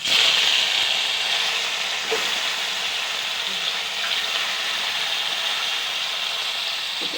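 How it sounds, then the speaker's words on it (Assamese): Steady crackling sizzle of frying in hot oil, continuous and fairly loud throughout, with a faint clink partway through. No speech. "এতিয়া মই মাছকেইটা ভজা দেখাই দিছোঁ আপোনালোকক"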